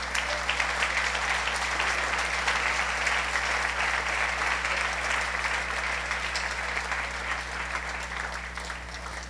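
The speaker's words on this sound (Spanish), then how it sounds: "denle un aplauso a nuestro amado Dios." A church congregation applauds steadily and loudly for about nine seconds, sustained clapping that fades slightly toward the end, with no talk over it.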